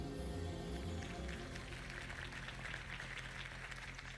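A crowd in a Batman video game cheers and applauds after Harvey Dent's campaign speech. The dense, continuous clapping and crowd noise sits over low background music.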